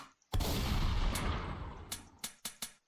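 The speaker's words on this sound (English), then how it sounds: "I can shoot the minigun and get the spark effect, shoot that tree." Minigun fire with spark effects in a Unity FPS game: one long sustained loud burst of rapid shots that tapers off, then several separate sharp reports.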